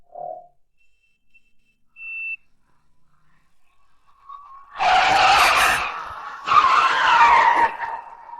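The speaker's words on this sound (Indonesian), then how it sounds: "mobil kami yang menabrak mobil Anda" A car skids with a loud screech and then slams into another car, a long harsh screeching burst followed by a second crashing burst, after a quiet stretch.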